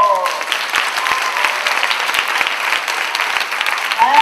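A French audience at a Poisson Arc-en-Ciel show gives a steady burst of loud, close applause, dense clapping sustained evenly throughout.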